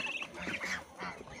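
Ducks by the water give a few short, nasal quacks and honks at close range, fairly quiet and scattered across a moment.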